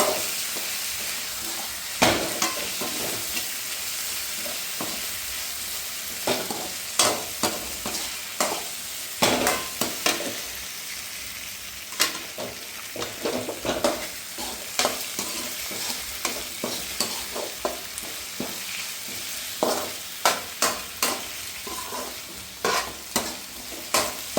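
Onions sauté in a pan for a pork curry, with a soft continuous sizzle broken by frequent scraping and clattering strokes of a stirring spoon, close and with no talking.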